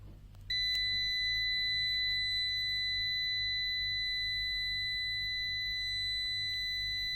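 A ZOYI ZT922S multimeter's continuity beeper sounds a steady, high, piercing tone that starts abruptly and holds for several seconds over low background hum, with no talk.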